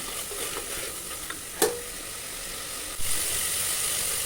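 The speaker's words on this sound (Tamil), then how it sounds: "மீடியமான ஃப்ளேம்லேயே வச்சு வணக்குங்க தக்காளி நல்லா வணங்கினதுக்கப்புறம்" Tomatoes sautéing in a pan over a medium flame for a vegetable rice dish, giving a steady soft sizzle with a few brief stirring scrapes and a sharp clack partway through.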